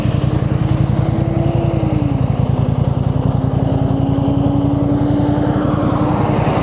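A 2025 Yamaha MT-07 motorcycle fitted with a quickshifter, its engine thrumming loud and close with a rapid pulsing beat and a shifting pitch as the revs drop and rise through the gears, with no talking.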